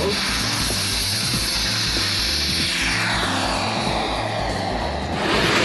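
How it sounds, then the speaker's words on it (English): A model jet's JetCat B160 turbine burning Jet A roars steadily at an airfield, a loud continuous whoosh with a slowly shifting pitch as the aircraft passes, with no talking. "This weighs about 39 pounds, powered with a jet cat B160 burning jet A."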